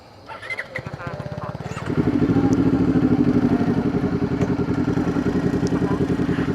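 A motorcycle engine on a Bataan road loop starts up close by and settles into a loud, steady, throbbing idle with fast regular pulses, preceded by brief clatter and mixed with voices nearby.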